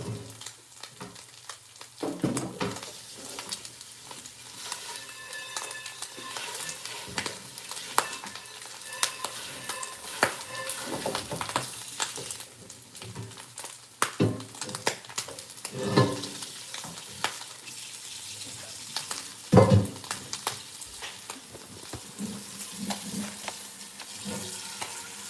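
Spaghetti cooks in a pan at a low, steady sizzle, broken by scraping stirs and occasional clinks, with a brief splash of running water.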